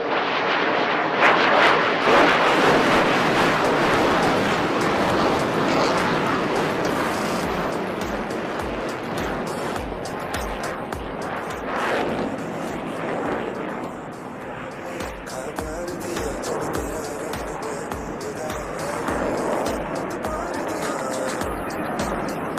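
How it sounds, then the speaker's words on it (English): Fighter jet at the Bengaluru air show roaring through a broad, sustained afterburner blast, loud and continuous across the whole stretch with a rumbling, shifting roar and no talk over it. "Do notice as the aircraft shall re-engage his afterburners for a rapid"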